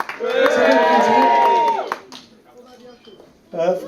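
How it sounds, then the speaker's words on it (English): Wedding guests at a best man's speech cheer and clap in a loud burst lasting nearly two seconds, then it fades to murmurs before a second surge of cheering near the end. "More cheering, come on!"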